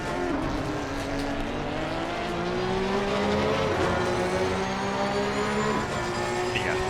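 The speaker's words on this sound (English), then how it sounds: "the Porsche sounds absolutely phenomenal, as you can tell" A Porsche race car engine drones and whines steadily in Assetto Corsa Competizione, its pitch rising and shifting through gear changes, loud and continuous with no talking.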